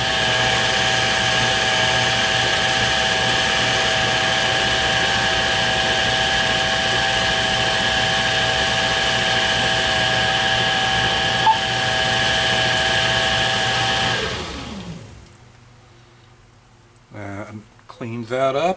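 A machine tool cutting five thou off a Harbor Freight welding table clamp adapter, a loud steady whining drone with a constant pitch that runs on and then spins down, followed by faint shop sounds.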